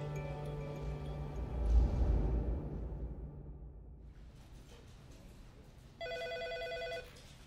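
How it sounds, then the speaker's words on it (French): A telephone rings at the duty desk of the high-mountain gendarmerie rescue post in Megève. One short, bright ring stands out near the end against a quiet background. "Le téléphone sonne à la permanence du PGHM"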